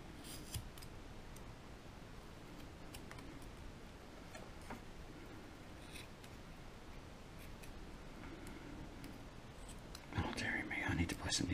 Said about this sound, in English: And take a pair of scissors.